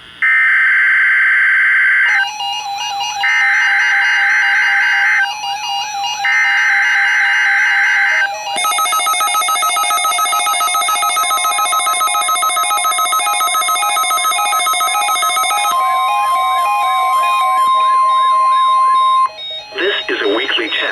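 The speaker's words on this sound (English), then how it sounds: "This is a weekly test of the NOAA Weather Radio Warning device." NOAA Weather Radio weekly test alert on the emergency alert system: loud sustained electronic tones and warbling data bursts that switch pitch in blocks, close and continuous, with a voice briefly heard near the end.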